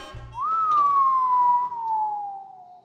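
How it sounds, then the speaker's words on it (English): A single long whistled note swoops up briefly, then glides slowly downward, clear and sustained over a quiet background. "Did you just whistle at my daughter?"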